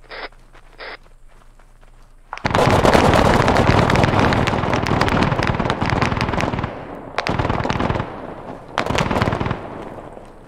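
A mounted gun in a video game opens fire after two short tones, hammering out long loud bursts of rapid automatic shots, pausing briefly between volleys.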